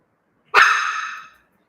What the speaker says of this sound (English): when I talk, he barks